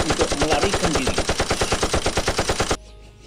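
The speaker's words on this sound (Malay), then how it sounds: "Dia terus melepaskan tembakan ke arah raksasa yang cuba mengganggu Puteri Lisa tadi." Soldiers fire a rapid, steady burst of machine-gun shots at a flying giant, the evenly spaced loud reports running for nearly three seconds before stopping abruptly, with faint narration underneath.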